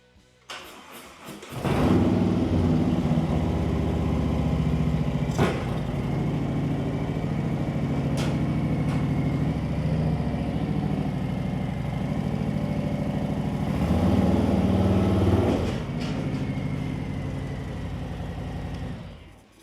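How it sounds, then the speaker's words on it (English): A 2024 Harley-Davidson Road Glide motorcycle is started and idles steadily with a deep loud rumble while it is brought onto a lift, briefly revving before the engine tails off. "it's time to bring the bike up onto the lift"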